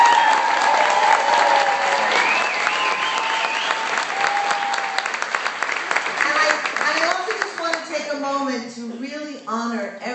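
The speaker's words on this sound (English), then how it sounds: "can we just give a huge round of applause to all the OBR Atlanta organizers who" An evening event audience applauds the organizers with broad, sustained clapping under cheers, then it thins out as voices and talk take over toward the end.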